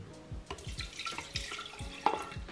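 Water splashing and trickling from a measuring jug into an electric kettle, with irregular drips and small splashes close by.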